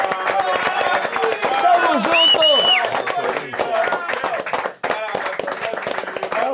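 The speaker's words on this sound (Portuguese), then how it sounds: "Sem que eu peça, todo mundo vai aplaudir." A studio audience at a podcast interview with the Corinthians club president claps and cheers in a lively burst, loud and close, while people shout and talk over the noise.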